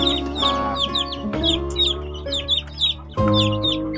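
Chicks of a modern broiler cross, about a week old, peep continuously in high bursts while broody hens cluck low and repeatedly, close and fairly loud throughout.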